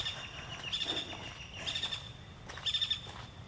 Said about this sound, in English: the birds are definitely chirping.